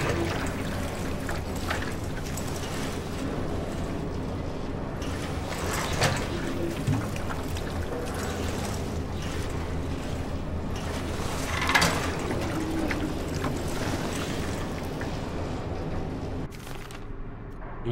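Drink being poured in Amnesia: The Bunker, a steady liquid stream trickling and splashing for several seconds over a low humming background, close and continuous before cutting off near the end.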